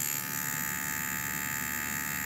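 A Bronc X2 Neo tattoo machine packing its needle into silicone practice skin gives a steady, close electric buzz with a constant hum, unbroken throughout.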